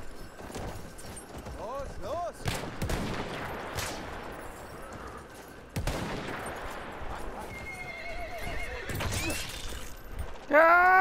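A horse whinnies repeatedly in the video game Battlefield 1, amid galloping hooves and bursts of gunfire, with someone talking over the action.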